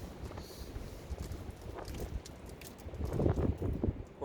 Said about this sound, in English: the wind's extremely hard at the moment.